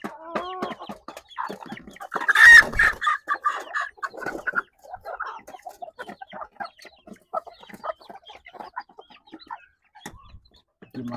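Livorno and bantam chickens cluck in a series of short irregular calls, close and fairly loud, with one louder squawk early on and quieter clucking afterward.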